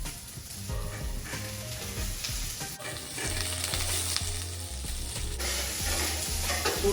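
Diced onions sizzle loudly in a pan for chicken Mangolia, with continuous frying hiss and repeated scraping stirs running throughout, and no one speaking.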